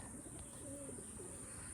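Faint, low coos of desi pigeons murmur softly amid a quiet background with a steady high electronic whine.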